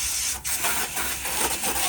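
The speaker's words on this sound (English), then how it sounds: "I usually spray down on the coil so the debris not bouncing up into the coil" Steady broadband hiss of a hose spraying water down onto the outdoor coil of a Ruud central air conditioner, close and continuous with slight surges, no voices.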